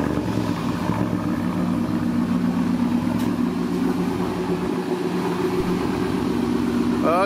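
A Ford Mustang engine idles with a steady, close rumble that holds an even tone throughout and plays alone.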